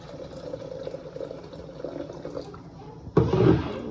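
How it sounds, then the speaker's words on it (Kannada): Hot water is poured into a pot of chicken soup in a home kitchen, a loud sudden gush of liquid arriving near the end after quieter kitchen background noise. "ಬಿಸಿನೀರು ಹಾಕ್ಕೊತಾ ಇದ್ದೀನಿ."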